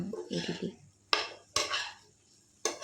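A metal spoon scrapes and clatters against a pan while masala roasts for a potato and cauliflower dish, several distinct sharp clanks amid softer stirring scrapes, close and clear.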